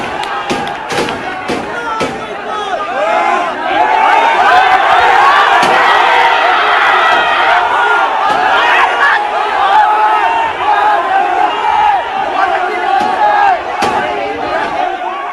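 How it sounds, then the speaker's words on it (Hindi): A large angry crowd gathered outside a building in Hyderabad roars and shouts continuously, with dense overlapping voices and occasional sharp bangs, loud and close. "ये जो भीड़ आप देख रहे हैं"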